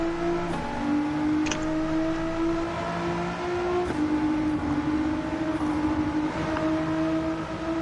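A tuned Z Series car in a racing video game on Grand Valley Highway revs hard through repeated gear shifts, its rough engine tone climbing and dropping in steady cycles, loud and close with no talk.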